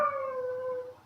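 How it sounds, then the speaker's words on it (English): A pet dog lets out a single drawn-out howl close by, a steady tonal wail that fades at the end, heard alone in an indoor room. "And there's my dog, howling again."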